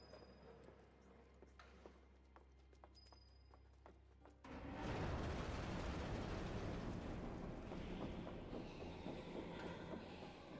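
A train in the Final Fantasy VII Remake video game bound for the Sector 7 slums and train graveyard. Faint clicks come first, then a loud, dense rumble of wheels on rails rolls in and holds steady.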